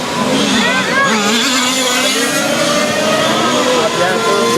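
A 1/5 scale petrol RC race car engine fires back up after stalling at a national track championship final, buzzing loud and close with rising and falling revs, a voice speaking over the whine.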